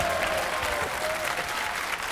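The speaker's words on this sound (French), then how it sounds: "Applaudissements pour Rosa." A French TV game-show studio audience claps for a contestant in a dense, steady burst of applause that fills the whole stretch.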